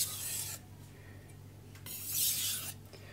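A knife is drawn across a King 1000 grit whetstone in two separate raspy strokes, each a short, close scraping swish, with quiet pauses between and no talking.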